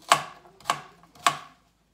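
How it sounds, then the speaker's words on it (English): A knife chops an onion on a cutting board: three crisp, evenly spaced chops, close and clear, then quiet. "let's kind of not quite mince it and not quite dice it."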